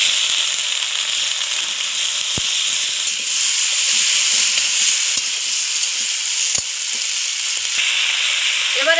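Cauliflower fries loudly in a pan with tomato, turmeric, chili, cumin and coriander, a dense continuous sizzle with occasional sharp clicks, close and without talk.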